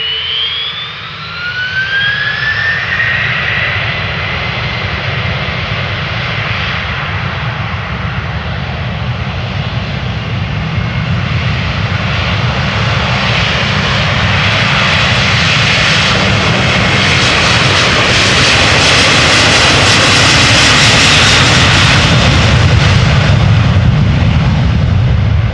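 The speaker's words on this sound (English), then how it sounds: "this would be Delta Airlines flight 259 A330-300 going to Boston, Massachusetts" A Delta Air Lines Airbus A330-300 bound for Boston roars on its jet engines, a loud sustained rumble with a rising whine that builds steadily louder over the whole span.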